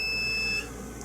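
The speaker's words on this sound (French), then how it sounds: "Ce que j'aime de celui-ci, c'est qu'il y a un petit buzzer." A multimeter's continuity-test buzzer gives one steady, high, close electronic beep lasting about half a second, then cuts off, leaving only quiet room tone.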